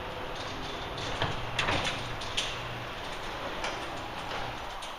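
A garage door on a newly replaced torsion shaft and track rolls open with a steady, moderately loud mechanical rumble and rattle, a few sharper clanks and knocks standing out along the way.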